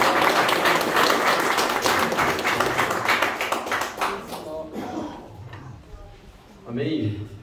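A church congregation claps in a full, rapid round of applause that thins out after a few seconds, with a voice speaking loudly over and after it.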